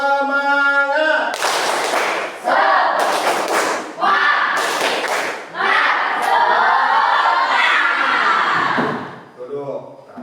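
A classroom of pupils performs an energetic patterned clap, loud bursts of hand claps alternating with shouted group chanting across several rounds, fading out near the end.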